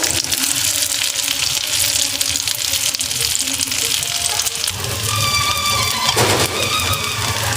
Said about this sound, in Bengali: বাকি যেগুলো আছে আমি সেগুলো একইভাবে ভেজে নেব।